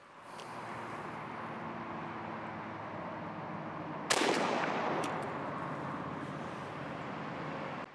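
A Winchester SXP shotgun fires a single shot of Viper 9-pellet ammunition at a pattern target 40 yards away, one sharp outdoor blast midway through over steady background noise and a fading tail.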